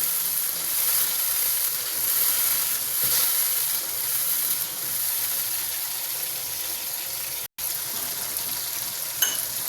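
Green chillies sauté in hot oil for a Hyderabadi chana degi pulao, a loud, continuous close sizzle and hiss with faint stirring, cut by one brief dropout near the end.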